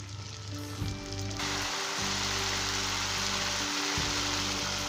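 Tomatoes hit a pan of browned onions with ginger, garlic and turmeric, setting off a loud, steady sizzle that continues without pause, close by and with no talking.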